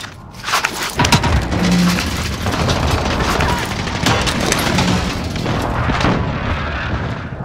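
Heavy booms and crashing blasts from an airstrike in the video game Call of Duty Warzone, rolling continuously for several seconds with scattered gunfire cracks mixed in, loud and close.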